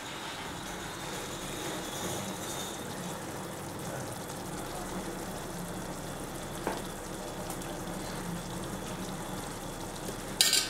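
Paneer biryani masala fries in oil, a steady broadband sizzle with soft stirring scrapes throughout and a brief clatter near the end, no one speaking.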